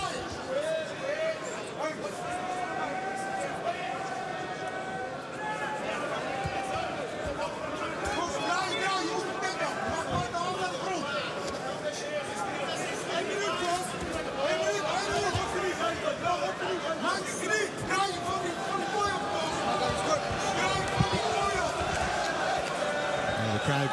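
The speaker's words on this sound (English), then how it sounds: "Crowd getting a bit restless here." A restless crowd murmurs and chatters through an arena at a Bellator MMA event, a steady broad hubbub with a commentator's voice talking over it throughout.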